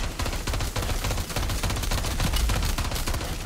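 Rapid automatic gunfire from a gun in Modern Warfare 3 Zombies, a dense, continuous stream of loud, close shots with no pauses and no voices.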